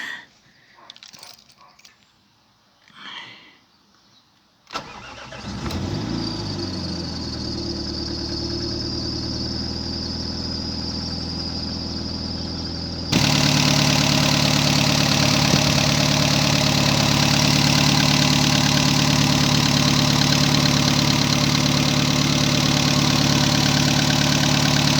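A 2001 Ford Fiesta Mark V engine cranks and catches, then settles into a steady idle that grows louder partway through, with a brief jingle of keys at the start.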